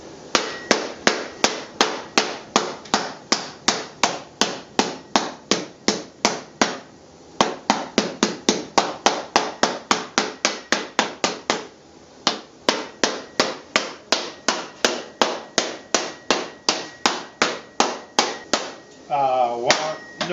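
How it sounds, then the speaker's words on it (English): Curved nylon hammers strike metal in a fast, steady rhythm of ringing, clanking hits, close and loud, with brief pauses between runs and a faint voice near the end. "These are nylon hammers."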